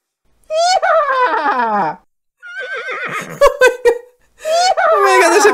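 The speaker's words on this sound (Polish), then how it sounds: "czyli chyba śmianie się konia" A horse-laugh sound effect plays from a phone app: three loud whinnying, laugh-like bursts separated by short pauses, the middle one choppier and broken up.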